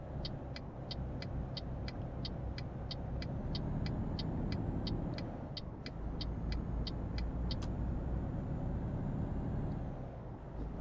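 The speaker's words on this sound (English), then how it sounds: "That bus is coming awfully fast." A bus passes in the truck-driving game Euro Truck Simulator 2: a steady, loud engine rumble continues throughout, with a rhythmic ticking like an indicator over it and no talking.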